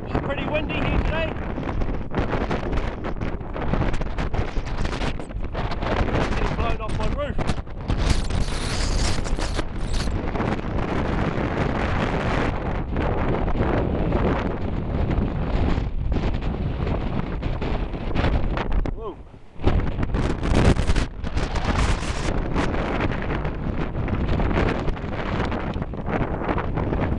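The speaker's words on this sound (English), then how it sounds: "windy here today." Strong wind buffets the microphone at Bluff, New Zealand, on an early morning gale of about 60 knots, a loud continuous roar with gusts and a short lull near the end.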